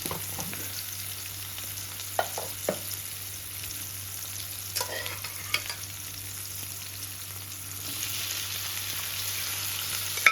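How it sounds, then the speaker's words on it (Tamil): Onions and tomatoes sauté in a pan for a village-style Chettinad mutton curry, a soft continuous sizzle with occasional stirring scrapes and clinks, no talking. "வெங்காயம் தக்காளி நல்லா வதங்கணும்."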